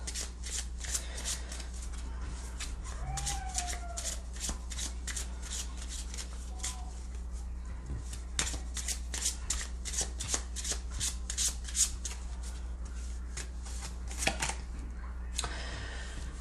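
Sacred Traveler Oracle cards are shuffled by hand in a long run of rapid, crisp riffling slaps, close and steady, with a soft voice murmuring briefly partway through.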